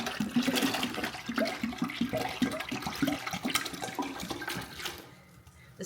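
Apple juice pours from a two-quart bottle into a large pot in a steady gushing, splashing stream. It is fairly loud and close, then cuts off near the end. No one talks.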